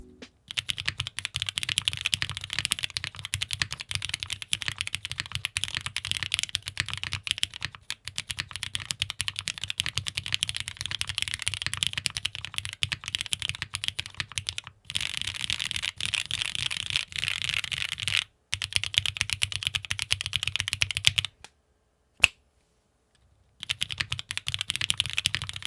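Continuous fast typing on a keyboard fitted with Cherry MX Clear Top Nixie switches, a dense close clatter of keystrokes with a few brief pauses and no talking.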